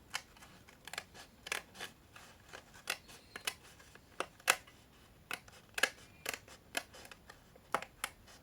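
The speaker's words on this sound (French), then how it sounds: "Je coupe le marron qui dépasse un peu de la carte en fait." Scissors snipping through card paper while trimming a handmade birthday card, a steady series of crisp, close cuts at roughly half-second intervals, quiet and alone.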